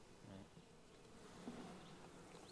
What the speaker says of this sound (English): Holy smokes, a lot of bees on that frame.